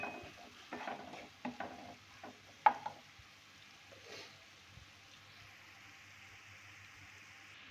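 A spoon stirs and mixes gravy in a pan for an aloo dish, giving soft scraping and gentle sizzling with a few louder knocks early on, then a quieter simmering hiss.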